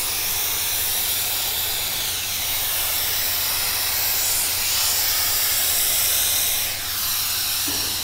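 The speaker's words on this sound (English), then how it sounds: "We'll spray this again." Steady broadband hiss of spraying onto a hydro dipping film runs continuously for several seconds, close and fairly loud, with a sharper burst near the end.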